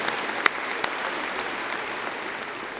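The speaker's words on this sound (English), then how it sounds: "Let's give our academic deans a round of applause." Audience at a university spring commencement ceremony applauding academic deans, a steady dense wash of clapping from a large crowd heard at a distance, with a couple of sharper claps standing out near the start.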